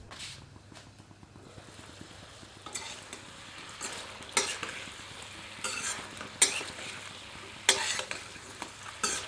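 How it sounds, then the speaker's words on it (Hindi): Chicken masala cooks covered in a kadhai over a low flame, a soft steady sizzle with faint stirring and occasional light clinks of utensils, fairly quiet and without talk. "अब इसे ढककर 10 मिनट धीमी आंच पर पकाते हैं"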